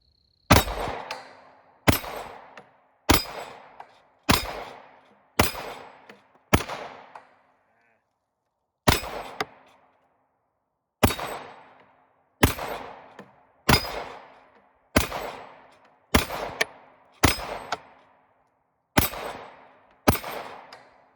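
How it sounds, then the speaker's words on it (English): A series of loud, sharp SA35 pistol shots at an outdoor range, fired one at a time in a steady rhythm of about fifteen reports, each with a short decaying tail and a brief pause partway through. "here goes the second 15 shots"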